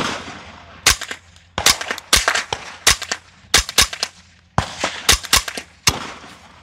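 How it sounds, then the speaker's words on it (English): Suppressed .22 rifle shots with CCI Mini-Mag rounds through an Angstadt Vanquish integrally suppressed barrel, about a dozen sharp, close cracks fired in quick, uneven pairs and bursts. "So those are CCI mini mags through the Angstadt Vanquish 22 integrally suppressed barrel."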